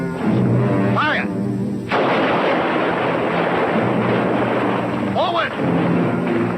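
Heavy cannon fire in a 1962 film battle, with loud booming blasts and rumbling roar that stay dense throughout, broken by shouted voices and whistling shrieks.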